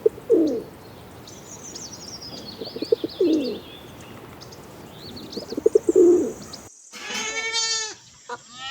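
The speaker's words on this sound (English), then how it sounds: "Pigeon." A pigeon gives three soft, low coos spaced a few seconds apart over faint background bird chatter, then a bleating animal cuts in at the end.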